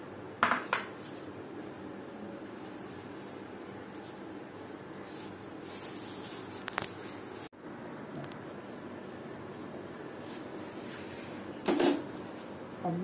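A spoon scrapes and clinks steadily against a bowl as chopped onion masala for pani puri is mixed, with a few sharper knocks standing out near the start, middle and end.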